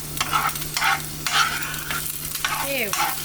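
Egg whites frying in a non-stick skillet, a steady sizzle broken by short bursts of spatula scraping and stirring, with a low constant hum running beneath.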